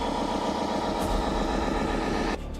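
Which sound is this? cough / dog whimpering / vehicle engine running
vehicle engine running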